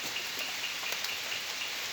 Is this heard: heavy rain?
yes